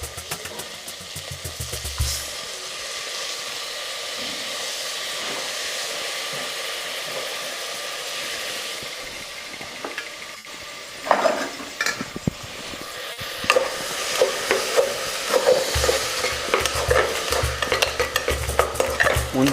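Washed fenugreek leaves going into a hot pan for a one-vessel healthy meal, sizzling and frying steadily while a utensil stirs and scrapes, the hiss brightening near the end, with no talking.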